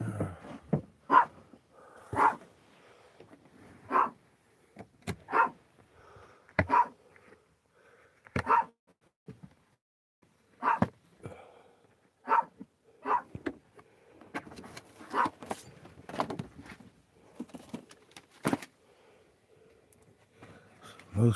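A puppy barks in short, sharp yaps spaced every second or two over about twenty seconds outdoors in Sedona, with some brief speech and rustling mixed in.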